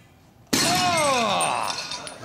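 A ceramic toilet bowl hurled in a sporting throwing contest smashes with one sudden loud crash, followed by ringing shards and clattering pieces for about two seconds.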